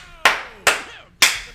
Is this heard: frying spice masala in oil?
no